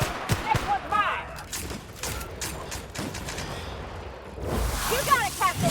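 Gunfire in the video game The Outer Worlds crackles in short bursts of sharp shots spread across the clip, mixed with game character voices calling out during the fight.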